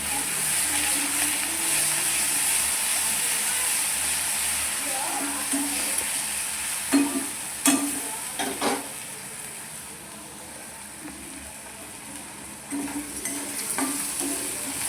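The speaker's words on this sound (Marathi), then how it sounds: "त्यात टाकून आपण वाटण वाटलेले हिरवं मिरची हलवून घेऊया." Green chilli paste frying with roasted garlic in a pan is stirred, giving a steady close sizzle broken by a few louder scraping strokes of the spoon.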